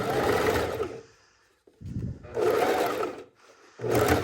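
Sewing machine stitching bias binding onto American-style pajama pants, running in close, loud bursts of steady motor whirring with short pauses between, no talking.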